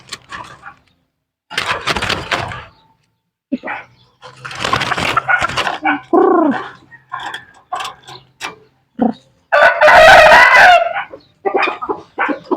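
A red junglefowl (labuyo) is picked up and handled, giving a short harsh squawk amid loud flapping and rustling bursts, up close and without talk.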